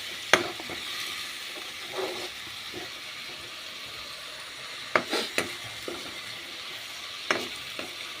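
Spices and tomato paste sizzle in a hot pan, a quiet steady fry broken by a few sharp spits and scraping stirs, with no talking.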